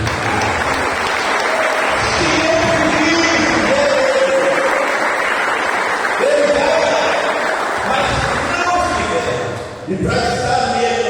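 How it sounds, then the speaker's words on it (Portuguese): A church congregation claps together in steady, loud applause that fills the room for several seconds, with a brief dip near the end before the clapping swells again. "Agora aplaude ele,"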